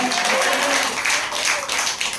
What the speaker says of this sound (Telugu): చప్పట్లు కొట్టి ఒకసారి మరొకసారి హల్లెలూయా